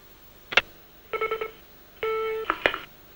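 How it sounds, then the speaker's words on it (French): In a television newsroom, a telephone gives several short electronic rings and beeps in quick succession, clear and close, with no talking. "Téléphone pour vous."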